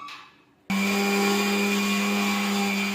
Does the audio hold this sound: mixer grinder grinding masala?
yes